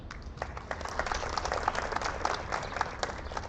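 Quiet applause from the audience at a women's chess championship closing ceremony honors the players, a soft, distant patter of clapping that continues evenly throughout.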